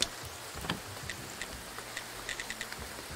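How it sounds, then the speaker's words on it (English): Rain falling in Graveyard Keeper, a steady hiss of gentle rainfall with light scattered drop taps and ticks, fairly soft and continuous. "With that done and the rain setting in"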